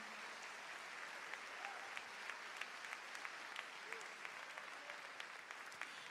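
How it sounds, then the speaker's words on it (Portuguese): A church congregation applauds in worship, a steady, fairly distant spread of many hands clapping with occasional sharper claps above the wash. "Você consegue aplaudir ao Senhor pela sua palavra agora?"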